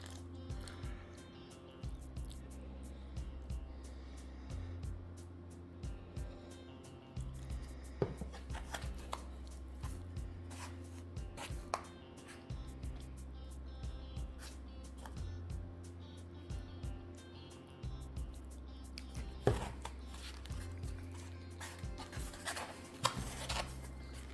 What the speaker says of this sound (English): let's mix it up